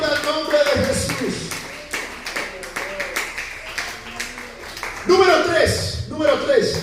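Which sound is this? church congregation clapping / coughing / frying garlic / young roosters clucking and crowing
church congregation clapping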